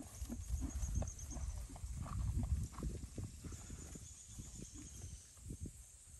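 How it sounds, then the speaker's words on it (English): Horses walking outdoors with children riding them, their hooves clip-clopping in an uneven repeated rhythm close by, with soft rustling and faint background noise throughout. "They're riding horses."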